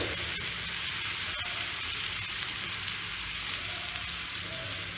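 Hot water poured into a pan of bitter gourd and potato curry, giving a steady soft sizzle and bubbling that continues evenly at low volume, with a couple of faint clicks.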